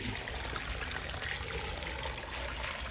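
Water pours steadily into a pressure cooker pot over pork ribs, a constant rushing splash at close range with no talking.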